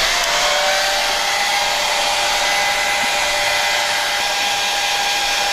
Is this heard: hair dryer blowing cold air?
yes